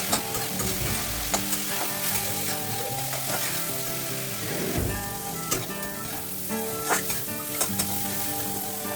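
Masala spices with turmeric and a splash of water fry in a pan, giving a close, continuous sizzle broken by repeated scraping stirs.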